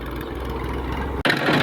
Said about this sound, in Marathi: ट्रॅक्टर चालू झालेला आहे फायनली